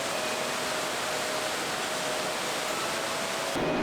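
Steady, dense roar of Vernal Fall, a 317-foot waterfall on a rocky Yosemite trail, a continuous broadband wash of falling water heard close and loud throughout with no voices.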